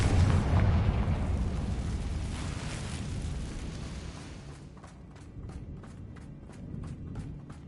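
A Confringo spell explosion in the Hogwarts Legacy video game, a loud rumbling blast that decays over several seconds, followed by a rapid series of faint clicking taps.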